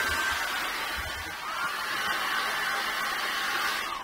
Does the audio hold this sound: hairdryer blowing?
yes